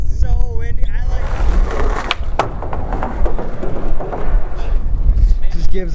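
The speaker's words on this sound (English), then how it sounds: "It's so windy." Strong gusts of wind rumble across the microphone while skateboarding outdoors, with board and wheel noise mixed into a steady low roar and brief voices from the riders.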